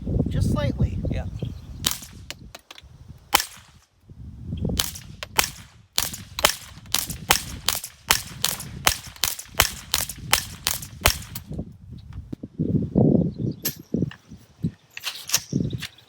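Sharp, close cracks of a suppressed semi-automatic rifle firing CCI standard velocity ammunition, a few spaced shots followed by a fast, regular string of rounds, with rustling handling noise and brief talk between shots.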